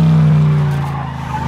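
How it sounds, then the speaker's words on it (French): Car tires squeal and skid loudly during a handbrake 180 spin in a film stunt, a sustained close screech that fades slightly toward the end, with no voices. "Avec le transfert de poids, la voiture en fait va se retourner et elle va continuer dans son élan."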